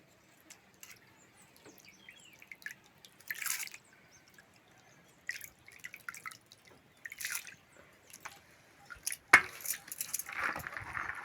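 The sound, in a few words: washing wheat grains in water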